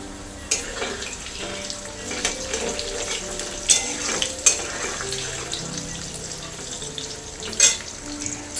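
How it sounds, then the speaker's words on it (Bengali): Salted, turmeric-dusted potatoes frying in oil for a lentil fritter curry, a steady bubbling sizzle close by with a few sharp clinks and stirring knocks scattered through it, no talking. "আমরা অপেক্ষা করছিলাম আলুগুলি ভালো করে ভাজা হওয়ার মতো করে"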